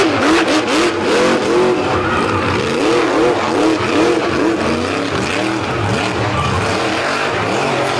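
A monster truck engine roars and revs hard at a beach show while the truck keeps running with a broken rear axle after a big wheelie. The engine is loud and continuous, with rising and falling revs throughout.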